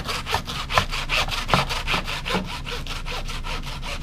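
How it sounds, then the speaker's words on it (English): A hand bone saw cuts through the sternum of a whole heritage breed pig, making rapid, rhythmic rasping strokes, loud and close, in an even back-and-forth pattern with no talking. "I don't have a butcher block, and so we're gonna use the saw"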